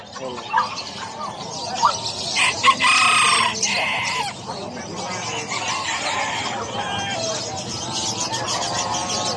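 Chickens cluck busily while a rooster crows, a lively chorus at a poultry market in Bocaue, with a voice talking over it.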